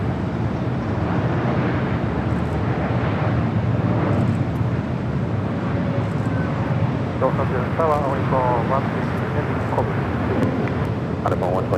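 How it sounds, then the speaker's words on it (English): An Alaska Airlines Boeing 737 MAX 8 jet arriving at LAX fills the air with a steady, loud roar that holds throughout, with a few faint chirps and low voices underneath. "737 MAX 8 with Alaska next arrival."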